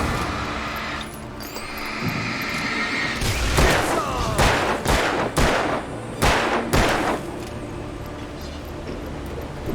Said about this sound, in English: Grab the gun, shoot him, and then shoot them.